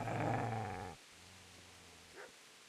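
A dog in a video game growls and barks loudly for about a second, a harmonic rumbling snarl, then drops to a low quieter growl with one short yelp near the end.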